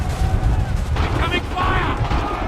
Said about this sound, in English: They're firing! Incoming!